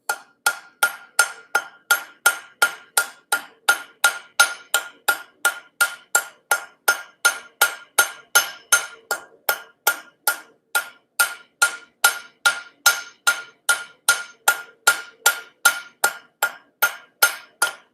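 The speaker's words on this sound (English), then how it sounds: "Let's flatten it and try the cross peen here." A cross peen hammer strikes hot steel on an anvil while forging a leaf hook, a long steady series of sharp ringing blows, about two per second, close and clear with no talking.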